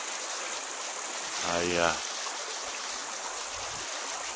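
A creek flowing through the woods gives a steady, close rushing hiss of water, with someone briefly speaking over it partway through.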